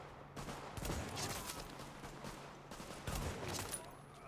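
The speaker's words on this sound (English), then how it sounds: "I love this marksman rifle." Sharp, fairly quiet shots from a marksman rifle in The Division crack over a low ambient city battle backdrop, a few spaced reports rather than continuous fire.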